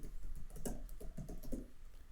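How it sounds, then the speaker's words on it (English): A domain name is typed on a computer keyboard in a quick, uneven patter of close key presses, steady and moderately loud, with no speech. "So I will type here my website domain name,"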